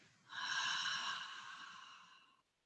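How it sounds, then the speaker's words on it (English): A single long, airy exhale through an open mouth during a Pilates cool-down, soft and close, rising quickly then fading gradually over about two seconds with a breathy hiss. "Open your mouth and breathe out"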